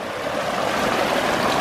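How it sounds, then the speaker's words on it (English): Steady rushing and splashing of a backyard pond waterfall spilling over boulders beside driftwood, close and continuous, with no voices. "Look at that waterfall."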